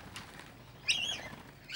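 Birds from a mixed flock call briefly and faintly, with a short chirping phrase in the middle and a brief flutter, set against quiet outdoor background noise.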